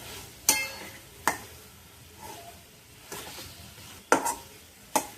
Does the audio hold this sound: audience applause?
no